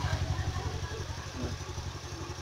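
A Honda Beat carburetor motorcycle, modified trail-style, idling nearby with a steady low, pulsing rumble and light mechanical clatter.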